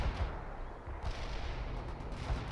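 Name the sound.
missile fire in World in Conflict video game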